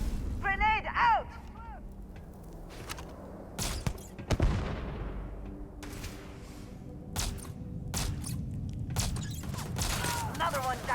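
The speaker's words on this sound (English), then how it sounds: "Grenade out!" Grenade blast and gunfire in a Starfield firefight: sharp separate shots and a heavier burst stand out against quieter gaps, with a voice speaking near the start.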